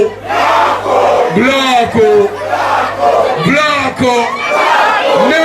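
A large crowd of women at a concert shouts a chant in loud, repeated bursts, voices rising and falling together, energetic and close.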